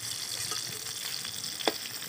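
Brinjal pieces lightly frying in oil in a pan, a continuous soft sizzle with faint stirring clicks and one brief louder scrape toward the end.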